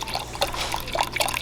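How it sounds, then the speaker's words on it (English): Ramen soup starter broth, a chicken-style stock with ginger, is poured into a pot, making a soft, close, steady trickle and splash. "next we're gonna pour in the ramen soup starter"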